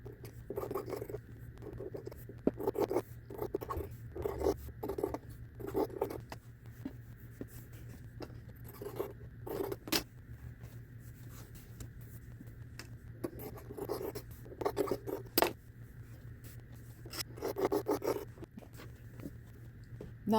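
Scissors cutting gala dress fabric for a hem, with soft repeated snipping and scratchy fabric rustles at a quiet, close range and a low steady hum underneath.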